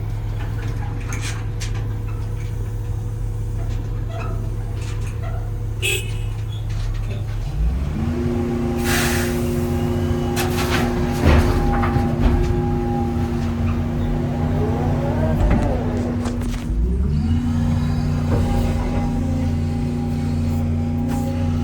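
A dirt-hauling truck with a manual gearbox and an inexperienced driver runs steadily up close, its engine note climbing and dropping through gear shifts over a rough, constant rumble.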